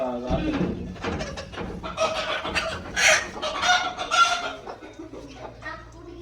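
Chickens, a hen with chicks and a rooster, cluck and squawk nearby while being sold, mixed with people talking, with a louder burst of clucking midway.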